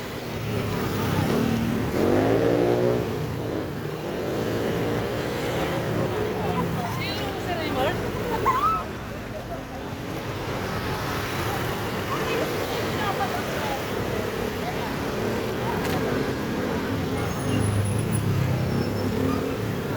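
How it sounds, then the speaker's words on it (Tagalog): Heavy road traffic with cars and buses crawling near a gate, a continuous engine rumble and revving close by, with people talking over it throughout. "Yung papuntang gate to, grabe traffic."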